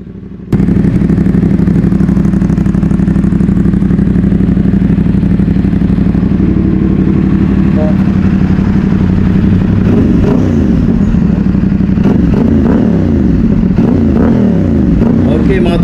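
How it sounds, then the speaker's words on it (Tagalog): A CFMOTO 450NK motorcycle fitted with a new M4 aftermarket muffler at a muffler shop idles steadily and loudly up close, then gets blipped in a series of quick revs near the end. "So sound check na natin itong motor ha"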